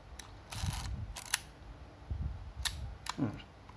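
Shutter of a camera being tested fires in several crisp mechanical clicks spaced through the clip, close and distinct over quiet room noise, with faint low murmurs between shots.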